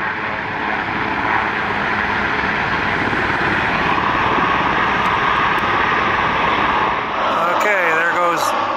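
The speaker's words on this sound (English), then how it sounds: "The backup helicopter. They're going to fly as a flight." A backup helicopter lifts off at the White House Easter Egg Roll to fly in formation with the Nighthawk helicopters, giving a loud, continuous rotor and engine roar that stays steady close by before thinning slightly at the end.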